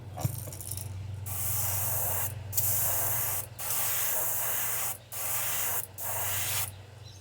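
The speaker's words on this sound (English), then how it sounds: "You can hear it in my airbrush." An airbrush sprays paint onto fishing baits in short bursts, a close airy hiss that cuts in and out five or six times over a low steady hum from the compressor.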